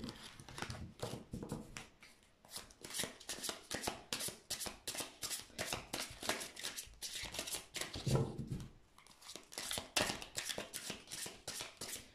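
Tarot cards are shuffled by hand for a romantic guidance reading, producing rapid, soft riffling and slapping bursts with brief pauses, quiet and close.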